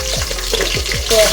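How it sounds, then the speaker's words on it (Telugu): Dried red chillies and curry leaves crackle in hot oil for a tempering for a raw-banana tamarind stew, a steady close sizzle with a few stirring scrapes and a brief louder spatter near the end, no voices. "సో తాలింపు వచ్చేసి ఎండుమిర్చి, కరివేపాకు"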